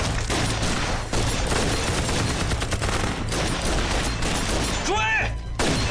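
Dense, continuous gunfire from a kung fu film action scene, a rapid volley of shots layered over loud background action with no letup for several seconds.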